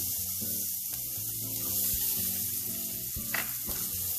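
Onions sizzling in hot oil with roasted peanuts and cashews for upma, a steady broad frying hiss with soft scraping and stirring sounds, no talking.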